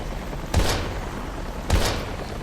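Two heavy gunshots from the video game Daymare 1998, each a booming thud with a short decaying tail, spaced about a second apart over a steady low ambient hum.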